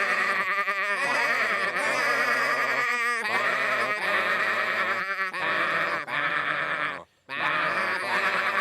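A sustained chorus of cartoon sheep bleating a gospel song together in a song-like rhythm, rising and falling, loud and continuous with only a brief pause near the end.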